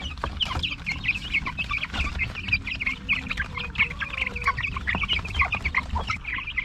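Rhode Island Red chickens clucking steadily in a flock, many overlapping short calls close by, with a low background rumble and no talking.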